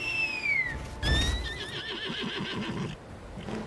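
A horse in the Lost Ark video game whinnies with a bright, wavering neigh, then neighs again, with hoof clops and game ambience underneath; close and fairly loud with no talking.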